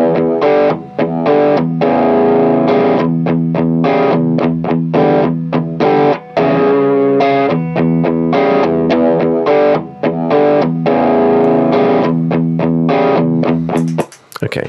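Distorted electric guitar loop played back on a Ditto Looper pedal, a chordal riff repeating steadily and seamlessly, loud and close with chorus-like effects, cut off sharply near the end.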